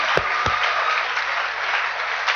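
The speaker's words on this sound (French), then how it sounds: "Applaudissons fort." A church congregation at a French-language sermon bursts into brief, dense applause, loud and continuous, with a couple of sharp thumps near the start.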